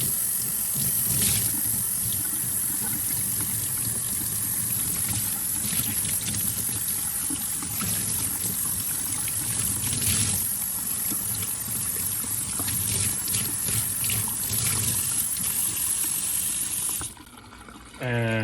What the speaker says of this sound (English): Let's go over and give it a rinse.